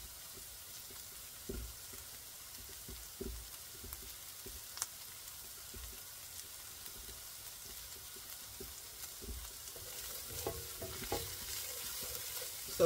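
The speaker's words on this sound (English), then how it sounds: "then we're going to add in our garlic, our minced garlic." Minced garlic sizzles in a pan while cooking a sauce for shrimp and grits, a soft, steady frying hiss with occasional clicks and scrapes of stirring, quiet and with no talking.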